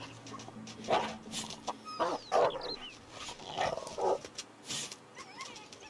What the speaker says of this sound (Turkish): İlk defa mızrakla köpek öldürüyorum.